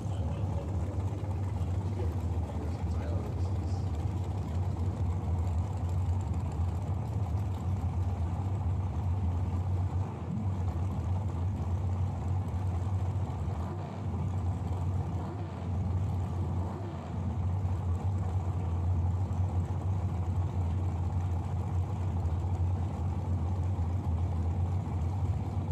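Tyler Livingston's drag racing car at a bracket race, a steady low engine rumble holding throughout at moderate distance, idling or staging without sharp revs.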